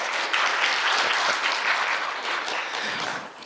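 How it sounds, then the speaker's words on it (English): Audience applause at a team-building keynote, a dense steady wash of many hands clapping at once, fairly loud and sustained, tapering slightly at the end with no voices over it. "You can applause for that"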